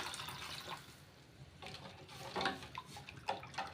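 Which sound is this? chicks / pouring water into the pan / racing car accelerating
pouring water into the pan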